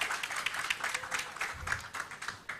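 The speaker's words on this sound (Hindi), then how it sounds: "एक बार तालियों के साथ स्वागत करिए" At an awards event, an audience welcomes a guest with lively, continuous applause, a mass of clapping heard from some distance with no speech over it.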